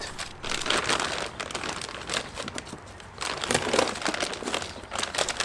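Crinkly plastic rustling and crumpling in bursts close by as a SeaSucker Mini Bomber 2 rack is pulled from its plastic bag, with brief pauses between handling.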